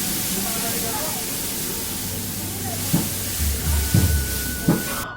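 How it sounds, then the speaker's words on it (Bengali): Spices for dal tempering sizzle in hot oil, giving a continuous hiss. A few sharp knocks and a low rumble come in near the end, and a voice talks underneath. "তো সেইটারে ফোড়নটা করে নিলুম, ডালটা ফোড়ন দিয়ে দিই"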